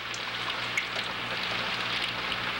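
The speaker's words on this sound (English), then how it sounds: "Oh, it's rain and sleet." Rain and sleet patter steadily on a kitchen window and surfaces outside, a dense continuous hiss of drops with occasional sharper ticks, no voices.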